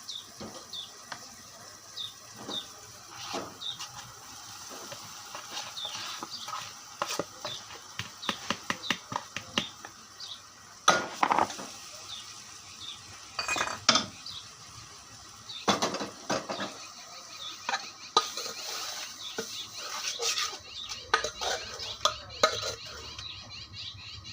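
Poha being added to a pan and stirred, with quick light clinks and scrapes of a spoon on metal, in clusters, then sparser, against a faint background hum.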